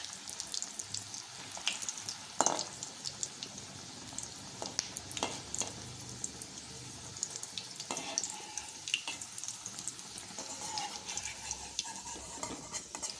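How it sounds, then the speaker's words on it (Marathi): Kothimbir vadi, coriander fritters, frying in hot oil, with a steady close sizzle and bubbling that runs throughout and carries occasional louder crackles and stirring scrapes. "अशा प्रकारे तळून घ्या."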